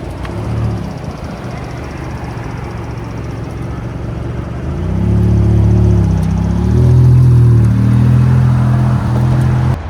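A Maserati GT2 Stradale supercar idles with a low, steady engine hum, then climbs into a stronger rumbling drone with shifting tones and several small rev rises, close and loud.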